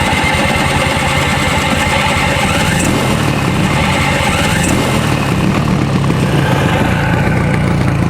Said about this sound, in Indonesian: Nih kita cobain starter dulu